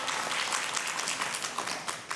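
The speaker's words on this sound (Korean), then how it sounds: "큰 박수로 청해 듣겠습니다." Studio audience applause on a Korean morning talk show, steady dense clapping that fills the whole stretch at moderate level, rising slightly in scattered bursts without any voices over it.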